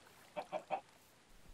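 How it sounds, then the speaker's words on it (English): A chicken in the Minecraft FTB modpack gives three quick, quiet clucks in a row over faint background hiss, with no talking. "That chicken, that poor chicken."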